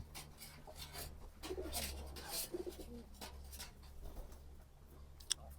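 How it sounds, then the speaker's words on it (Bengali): A sick pigeon gives soft, faint coos over a low steady hum, with scattered rustling and a sharp click near the end. "এই কবুতরটা একটু অসুস্থ আছে"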